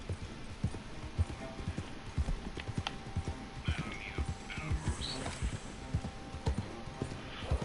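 Video game horse hooves clip-clop in a steady trot at an even rhythm in Red Dead Online, close and distinct, with faint background noise and no talking.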